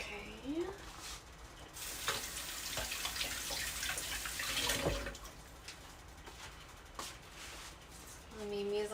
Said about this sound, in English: I'm just kind of running them underwater.